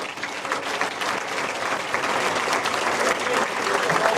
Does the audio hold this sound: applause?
yes